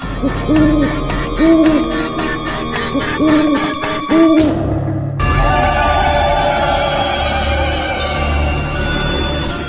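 An owl gives a series of repeated hoots, loud and close, over the first half, followed by other animal and ambient sounds with no talking.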